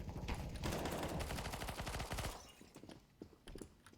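Rapid automatic gunfire in a tactical shooter video game during a hostage mission, a dense sustained burst for about two seconds, then sparser shots and faint activity.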